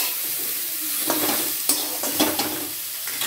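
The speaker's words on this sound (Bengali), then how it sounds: "বেগুন ছোলাটা ভাজা ভাজা হয়ে গেছে, আমি আলুটা দিয়ে দিচ্ছি।" Boiled potato is tipped into a pan of frying eggplant and chickpeas and stirred, producing a steady sizzle with several louder bursts of scraping and clattering as the spoon moves through.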